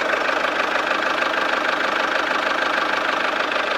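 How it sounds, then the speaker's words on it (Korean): A SsangYong Rexton Sports Khan's diesel engine idles steadily up close in the open engine bay, a continuous low rumble with a fast, even knocking pulse and no voices. "차량 엔진룸 앞에 나와 있는데 엔진 소리 먼저 한번 들려드릴게요"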